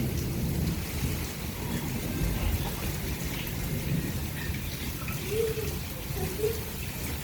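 Heavy wind-driven rain pours steadily close by at a home doorway, with low rumbling thunder rolling underneath throughout; no voices.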